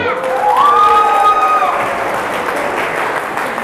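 A room of university students claps together at the start of an Indonesian-language lecture, a dense burst of applause with a faint whistle-like tone sweeping through early on, fading but steady to the end.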